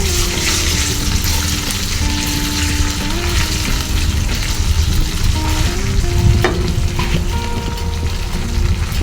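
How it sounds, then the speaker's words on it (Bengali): Onions frying in a pan for a rohu fish curry give a loud continuous sizzle throughout, with faint stirring and scraping mixed in. "পেঁয়াজটা মোটামুটি একটু ভাজা ভাজা হয়ে যাচ্ছে।"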